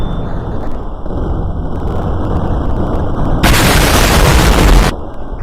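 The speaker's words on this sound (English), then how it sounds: "Add some goofy bombs." Bombs exploding in the video game Melon Playground, loud dense rumbling blasts that swell into a harsh, broadband roaring burst for over a second before cutting off abruptly.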